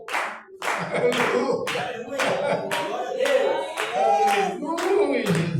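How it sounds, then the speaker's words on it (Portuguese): A church congregation clapping together in a steady rhythm, loud and close, about ten sharp claps spread evenly, with a voice calling out over them. "Palmas para o Senhor Jesus"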